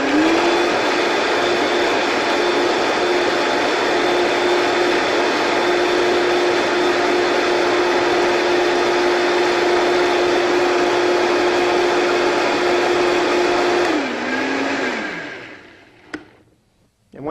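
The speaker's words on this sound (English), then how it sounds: "when you're pureeing, don't be afraid to let it spin for a while" A blender purees butternut squash soup at high speed, a loud, steady whirring drone that holds for about fourteen seconds before spinning down and cutting off.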